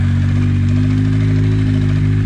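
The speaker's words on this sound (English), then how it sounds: "Despite the leaking fuel, the bike starts really well" Beta 300 4T four-stroke trials motorcycle with a fuel leak, its engine running at a steady, close, loud idle with a deep even throb throughout.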